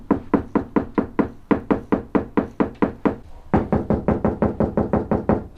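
Steady knocking on the bare door panel of a Mk2 Golf, before any sound deadening, in two runs of rapid evenly spaced knocks with a brief pause midway, each hollow, tinny and ringing, close and loud with no talk.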